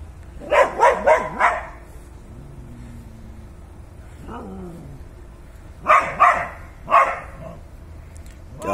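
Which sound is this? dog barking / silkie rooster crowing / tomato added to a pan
dog barking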